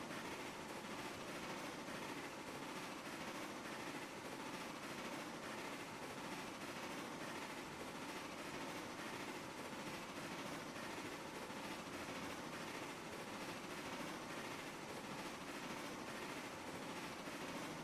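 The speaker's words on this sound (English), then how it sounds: "2 locomotives and we're still only doing 10-15 mile an hour up this hill" A heavy train hauled by two locomotives climbs a hill at low speed in the Railroads Online game, with a steady, dense rumble and rattle of wagons that holds constant throughout, with no voices.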